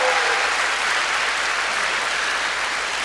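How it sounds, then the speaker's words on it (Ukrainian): Audience at a stand-up comedy show applauds, a thick continuous wash of clapping from a large crowd, loud and even throughout the short stretch. "ці оплески не нам, це оплески солдатам"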